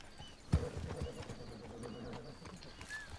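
Horse hooves clip-clop at a walk in Red Dead Redemption 2, a soft, even rhythm of hoofbeats beneath faint game ambience, opened by one sharper thud.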